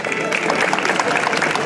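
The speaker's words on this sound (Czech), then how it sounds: "A to si zaslouží velký potlesk" Steady applause from an audience at a folklore programme during a village coat-of-arms and flag blessing ceremony in Ořechov, a dense, continuous clapping texture throughout the short stretch.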